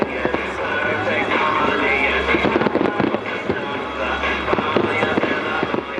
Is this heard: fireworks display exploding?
yes